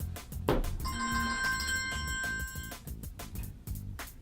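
A mobile phone ringtone rings out clearly with a steady electronic tone for about two seconds amid low room noise, with no talking over it.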